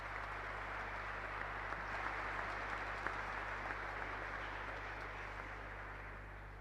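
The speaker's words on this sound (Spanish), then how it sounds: "Yo pido para ello un fuerte aplauso." Congregation applause during a Mass in a church, a steady, even wash of clapping heard at some distance over a constant low hum, with no break for the whole span.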